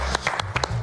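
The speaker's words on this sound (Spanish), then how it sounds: "Fuerte el aplauso para Hades." A studio audience claps at a Spanish-language television show, with short bursts of clapping close by and a low voice underneath.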